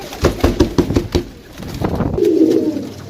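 Pigeons kept by a breeder give soft, low rhythmic coos close by, a rapid series of pulsing calls followed by a longer sustained coo, with no talking.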